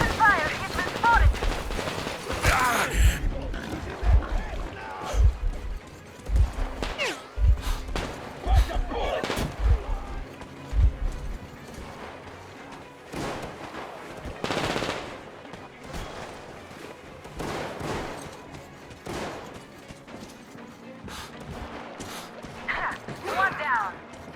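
Gunfire in the video game Metro Exodus: rapid bursts and scattered sharp shots with thuds over roughly the first half, thinning to sporadic cracks later, mixed with shouting voices throughout.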